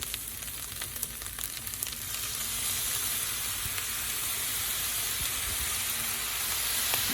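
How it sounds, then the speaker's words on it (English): Bacon Spam fried rice fries in a pan with soy sauce, giving a steady soft sizzle and hiss that swells slightly and holds on, close and with no talk. "Now we're going to let the bottom fry again by using soy sauce."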